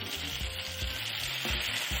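Finely chopped tomatoes fry in hot oil with dry prawns, a steady close sizzle running throughout with a few soft stirring knocks, no voices.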